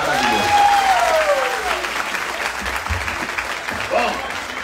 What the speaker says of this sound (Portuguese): Vamos dar aplaudir o prefeito